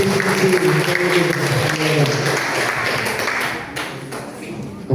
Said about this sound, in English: Please, can we get an applause for the speaker of the opposition